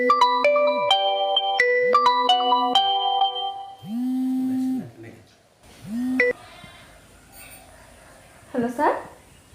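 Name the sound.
phone ringing during a call to Nayan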